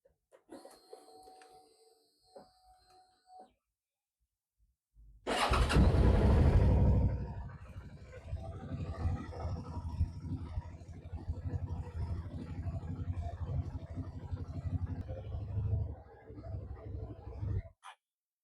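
A Suzuki SV650 motorcycle engine cranks and fires after some faint handling noises, then settles into a steady, rumbling idle close by that runs on alone until it cuts off.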